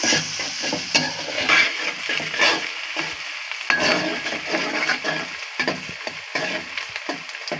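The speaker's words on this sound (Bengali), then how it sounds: "পেঁয়াজটা লাল করে নিব" Onions frying in oil in a pan for a home-style beef bhuna, a steady close sizzle with stirring scrapes and occasional clinks of a spoon against the pot, no talk.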